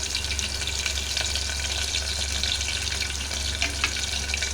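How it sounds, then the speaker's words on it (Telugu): Onion pieces and curry leaves fry in a pan, giving a steady, close sizzle with a constant crackling hiss and no talking. "ఉల్లిపాయ ముక్కలు అనేవి బాగా ఫ్రై అవ్వాలి."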